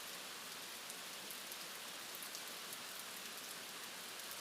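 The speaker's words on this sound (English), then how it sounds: "the rain does not rest." Rain pours steadily at night in the Amazon jungle, a dense, even hiss of drops striking leaves and surfaces with faint scattered patters, continuous and without any voices.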